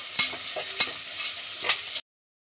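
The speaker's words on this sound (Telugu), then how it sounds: "ఇందులో కట్ చేసుకున్న ఆనియన్ కూడా వేసేసి ఆనియన్ కొద్దిగా బ్రౌన్ కలర్ వచ్చే వరకు ఫ్రై చేసుకోవాలి" Chopped onions fry in a pan, with a steady soft sizzle under a few sharp scraping stirs from a spoon, close by and without speech, before the sound cuts off abruptly.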